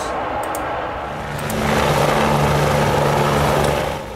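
A helicopter lifts out of Lukla in the Nepal Himalaya, a steady rotor and engine drone that swells louder partway through and holds, close and continuous with no talk.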